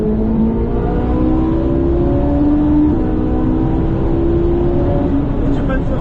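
A Ferrari 458 Italia is driven hard on a circuit, its engine droning loudly and steadily with rising tonal pitch throughout, while an instructor talks over it.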